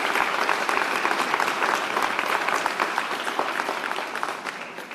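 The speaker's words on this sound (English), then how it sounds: "Give him a round of applause for building this coalition." An audience breaks into sustained applause at a mayor's media event about DACA, a dense wash of many hands clapping that stays loud throughout and tapers slightly toward the end.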